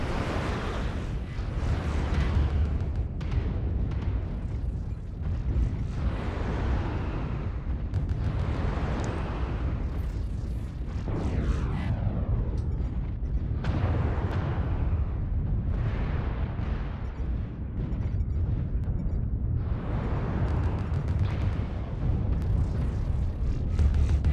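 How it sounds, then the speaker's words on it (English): Incoming missiles in the video game MechWarrior Online set off a continuous barrage of rumbling explosions, dense, heavy booms rolling one into another for the whole stretch. "Warning, incoming missile."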